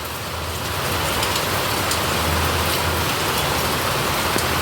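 Heavy rain pours steadily onto a home courtyard, a dense, even hiss that holds at one loud level throughout with no voices.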